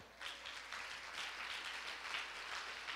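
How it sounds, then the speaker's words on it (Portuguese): A church congregation claps together in a soft, continuous patter of applause, heard faint and somewhat distant, with no one speaking over it. "Quem pode dar uma salva de palmas?"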